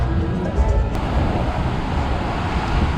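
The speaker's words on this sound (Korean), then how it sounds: "이야, 파도 높은 거 봐라." High ocean waves wash onto a beach in Indonesia near a large beach club, a broad continuous roar of surf with wind noise on the microphone, fairly loud and close.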